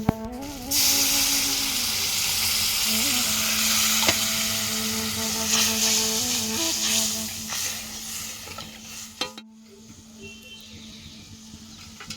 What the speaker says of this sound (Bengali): মাছটা শুধু একটু আদা রসুন আর একটু সর্ষে বাটা দিয়ে মাছটা ঝাল করছি